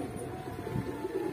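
Highflyer pigeons kept in a loft at a meat market in Konch coo softly and close by, low throaty burbling calls repeating in a loose rhythm over quiet background noise.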